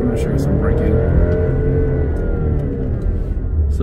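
A 2019 Alfa Romeo Stelvio SUV's engine rumbles and revs under acceleration, then the sound eases as the vehicle brakes, loud and close from inside the cabin with steady road noise throughout.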